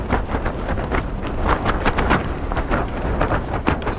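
Strong winter wind buffets a microphone on Ben Nevis at night, a loud, continuous roaring rush with gusty surges and no speech.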